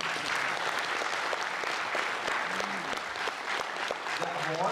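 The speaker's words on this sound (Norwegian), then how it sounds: "En applaus for det" Festival audience applauding at a Shadows tribute event, dense sustained clapping from a large crowd, with a voice speaking faintly over it near the end.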